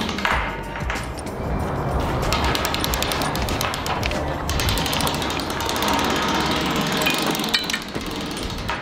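A ratcheting chain clicks steadily as it is wrapped around a pipe for cutting, a dense, continuous metallic rattle close by with no pauses.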